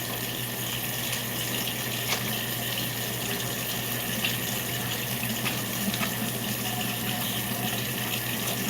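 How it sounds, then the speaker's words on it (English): A faucet runs steadily while hands are washed with soap, a constant soft rushing of water into a sink, fairly quiet and even throughout with no talking. "Let me wash my hands, ladies and gentlemen, really, really well with some soap and"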